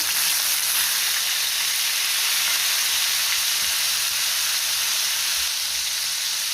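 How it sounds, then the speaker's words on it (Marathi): Ground tomato and onion paste frying in oil for a tomato chutney, giving a loud, steady bright sizzle and hiss that carries on unbroken, with faint low stirring knocks underneath. "आणि हे छान आपल्याला आता तेलावरती परतून घ्यायचंय।"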